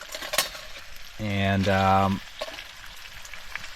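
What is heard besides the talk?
bacon frying on a small camp stove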